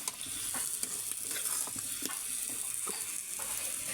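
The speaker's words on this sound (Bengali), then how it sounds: "কালবাউস মাছ আছে, আবার 2 চাকা পাঙাশ মাছও আছে, দিয়ে একসাথে রান্না করতেছি।" Kalbasu and pangas fish pieces fry together in a pan of oil, a constant close sizzle broken by soft scraping stirs every half second or so.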